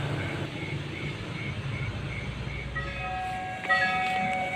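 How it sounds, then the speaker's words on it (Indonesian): Turangga passenger train rolls past a level crossing at night in Tasikmalaya, a steady low rumble of wheels and carriages with a faint horn tone and a louder clank toward the end, no talk. "kereta api Turangga yang akan melintas di wilayah ini"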